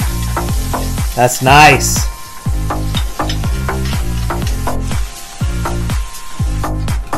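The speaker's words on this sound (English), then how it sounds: "you hear the sizzle?" Eggs sizzle and crackle steadily in a hot pan, with repeated scraping strokes and a brief remark spoken over the frying.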